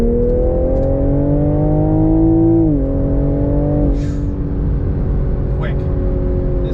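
A 2022 Toyota GR Supra pulling hard from inside the cabin, its engine note rising steadily, dipping briefly at a gear change, then climbing again, loud and continuous under a constant road roar.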